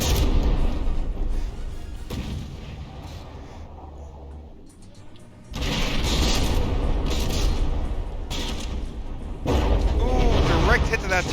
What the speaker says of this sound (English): Direct hit to that turret there.